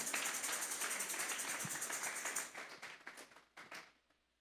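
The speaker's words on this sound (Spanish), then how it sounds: "Vamos a darle un fuerte aplauso pues al Señor esta tarde." A church congregation claps together in loud, steady group applause that thins out and fades to a few scattered claps before silence.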